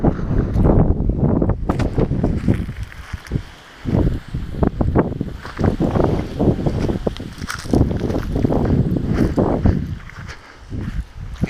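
Wind gusts outdoors on a Florida nature walk, buffeting the microphone in loud, uneven rumbling bursts, with rustling and possible footsteps mixed in and only a couple of brief lulls.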